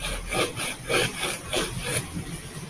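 Paper being creased sharply by rubbing it against a table edge while folding an origami blow dart, heard as four or five rhythmic scraping strokes, close and fairly loud, with no talk.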